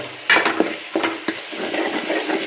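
Spicy curry masala frying in a pan and being stirred, a close sizzle broken by a few distinct scraping strokes of a spoon across the pan bottom, fairly loud, with no talking.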